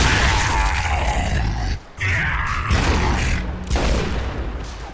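A Boomshot launcher in a Gears of War team deathmatch on the Sandbar map, heavy blasts and booming explosions with a brief dip between them, loud and close, with grunting game voices.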